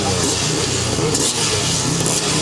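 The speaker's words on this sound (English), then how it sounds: "Revs rise and away we go then." 250cc grasstrack racing motorcycles rev together on the start line of a British championship race, a loud continuous engine roar that rises as they set off.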